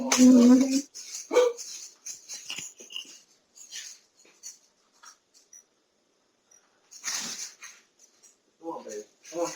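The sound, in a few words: dog barking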